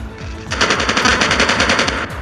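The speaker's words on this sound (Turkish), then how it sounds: "Hostile sentry gun in your AO." A sentry gun fires in the Call of Duty video game, letting off a rapid, steady burst of loud automatic shots lasting under two seconds.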